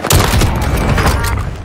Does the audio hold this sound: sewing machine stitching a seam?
no